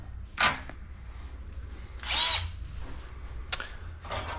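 A power saw cutting metal bicycle tubes, with three or four short, sharp high-pitched rasping bursts separated by quiet gaps, fairly close.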